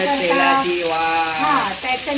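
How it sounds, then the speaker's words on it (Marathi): Prawns shallow-fry on a tava for a spicy Agri Koli prawn pickle, a close, steady oily sizzle running under a voice that speaks over it. "फ्राय करून घ्यायचा."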